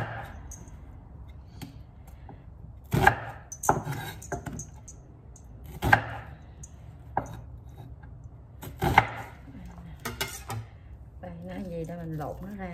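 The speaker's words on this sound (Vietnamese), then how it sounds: "bắt đầu giờ mình xắt củ hành nha bà con" A knife chops an onion on a cutting board in a home kitchen, with several sharp, irregular close cuts separated by pauses, and a voice is heard briefly near the end.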